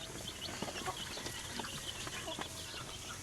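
Chickens for sale, the parent birds of new chicks, cluck and murmur softly in a pen, with scattered short calls over a faint background hum.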